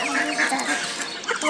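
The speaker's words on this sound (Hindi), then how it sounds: "और दोस्तों ये हमारी डक्स हैं" Ducks kept at a home make close, busy calls, a burst of quacks and squawks that overlap in a lively chorus.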